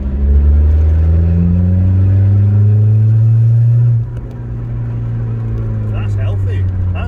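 Modified VW Polo pulling hard in third gear, a loud engine drone rising steadily in pitch for about four seconds, then dropping at the shift and continuing lower, heard from inside the car with a brief voice near the end.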